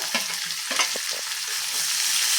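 Finely chopped onion and stalks frying on high flame for restaurant-style chilli paneer, a bright continuous sizzle with a few short stirring scrapes, close and fairly loud, no voices.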